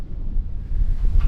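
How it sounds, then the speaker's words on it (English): Strong wind gusts across open ground by abandoned farm ruins, buffeting the microphone with a loud, low rumbling roar that swells and surges over a short stretch. "very windy over here"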